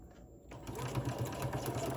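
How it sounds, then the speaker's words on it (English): Sewing machine running a steady straight stitch to join strips of scrap paper, a continuous close mechanical whir that starts after a quiet half second and runs to the end. "And I am just going to use a straight stitch, and I'm going to stitch these together."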